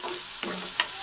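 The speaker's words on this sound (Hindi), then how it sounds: "ये दे पहला अच्छा से भूंज लेबू" Chopped onion, garlic and ginger fry in a pan while being stirred, giving a steady close sizzle with a couple of quick scraping stir sounds over about a second.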